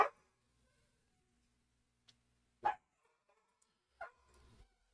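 Dogs in the Planet Zoo video game, near an Asian monitor lizard enclosure, let out a few short, separated barks and yips, fairly faint, with quiet gaps between them.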